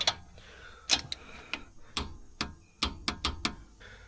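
A torque wrench tightens the swivel link bolt during a front CV joint replacement on a Mercedes C300 4matic W205, ratcheting in crisp, close clicks that come in uneven bursts with short pauses.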